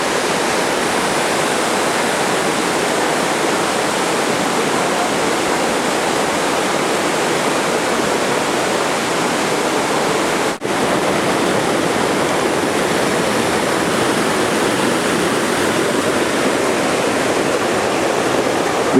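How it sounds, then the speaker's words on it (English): Steady, loud rush of the second cascade on the Falling Waters Trail brook, a waterfall roaring continuously up close with no talk over it. "Come to the second cascade."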